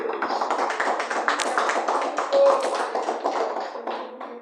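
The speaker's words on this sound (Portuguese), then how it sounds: "Palmas para Jesus." A church congregation claps together for Jesus during a worship service, a dense, steady patter of many hands that stays loud and continuous from start to finish with no voices over it.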